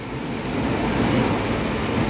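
A train running through Tugu station, a steady broadband rumble and rattle of rolling cars that stays loud and close throughout with no voices.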